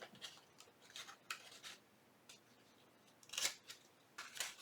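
Several crisp snips of scissors trimming paper for junk journal envelopes, close and fairly quiet, coming in uneven bursts with short pauses between cuts.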